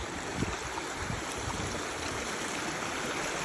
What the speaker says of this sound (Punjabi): ਵੇਖੋ ਪਾਣੀ ਕਿਵੇਂ ਭੱਜਿਆ ਹੁੰਦਾ ਆ